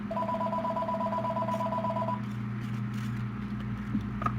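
A steady two-tone telephone call signal sounds for about two seconds, then cuts off, leaving a low hum and faint background noise.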